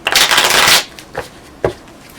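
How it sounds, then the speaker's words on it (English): Tarot cards are riffled in one loud, close shuffle that lasts under a second, followed by two soft taps as the deck settles. "Give them a shuffle."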